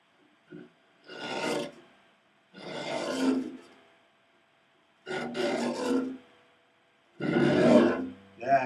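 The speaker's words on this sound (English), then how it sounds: "it's behind the bridge, and it's with a lot of pressure, and it just gives you a more intense, noisy, scratchy sound." A string bowed behind the bridge with heavy pressure gives four separate harsh, scratchy, noisy bursts, each lasting about a second, with short silences between them.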